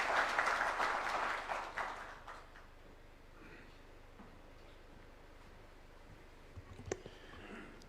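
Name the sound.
audience applause welcoming the President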